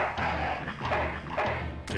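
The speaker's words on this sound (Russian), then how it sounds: "Такой приятненький песик." A dog in the video game Full Throttle barks and yips several times close up, with short repeated bursts over a steady game background.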